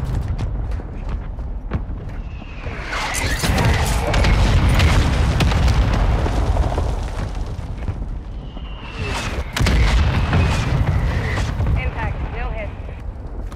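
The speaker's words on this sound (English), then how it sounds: "mortar strike inbound" Mortar strike explosions in Call of Duty: Modern Warfare II rumble as heavy, deep booms in two waves, with rolling low thunder and debris between impacts, while voices talk over the battle.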